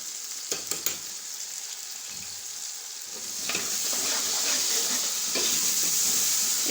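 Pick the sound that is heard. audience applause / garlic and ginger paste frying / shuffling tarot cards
garlic and ginger paste frying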